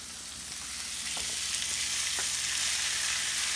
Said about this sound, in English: Let's go ahead and put our meat in.